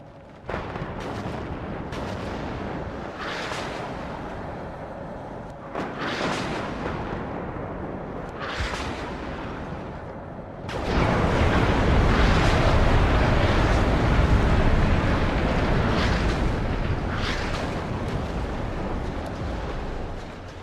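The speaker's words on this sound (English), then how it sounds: "And as they attack, the artillery will fly overhead." Artillery fire roars overhead in the WARNO wartime strategy game as repeated heavy booms that build into a loud, continuous rumbling barrage in the second half.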